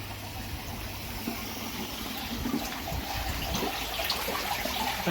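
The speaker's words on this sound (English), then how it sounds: "That's got the trickle in at the minute, going through the 3-stage dechlorinator" Water trickles into a koi pond filter through a three-stage dechlorinator, a soft, continuous splashing and gurgling close by with a faint low hum underneath and no voices.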